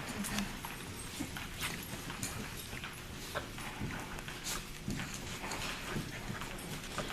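Hooves clopping in a steady walking rhythm on hard ground, mixed with faint ambient noise and occasional scuffs, continuous for several seconds.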